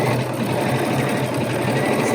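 Bernina sewing machine running steadily while sewing a decorative hem stitch, a close, continuous whirring motor hum with a fast rhythmic needle chatter.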